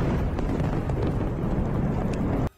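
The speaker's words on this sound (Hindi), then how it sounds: "वहां एक जोरदार धमाका हुआ।" A powerful blast from a UR-77 Meteorit mine-clearing charge, an explosive-filled pipe striking a target at a steel plant, comes as a loud sustained low roar and rumble that cuts off abruptly at the end.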